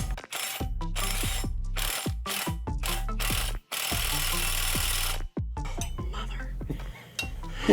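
An impact wrench hammers on a bolt of a 1957 Chevy, firing in repeated loud rattling bursts with short gaps between them.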